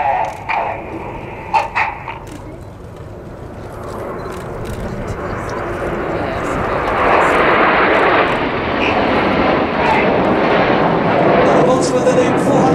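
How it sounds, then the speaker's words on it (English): Jet aircraft flying in formation at the Farnborough air show, their engine roar building from a thinner start into a loud, broad, sustained rush that holds strong to the end, with a commentator talking over it. "The jets will have slowed down to about 150 miles an hour"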